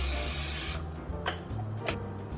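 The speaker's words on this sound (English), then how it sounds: "I get out of my small pan, and I spray it." Cooking spray spritzed onto a small pan gives a short, close, loud hiss lasting under a second, followed by quiet kitchen clatter with a couple of light knocks.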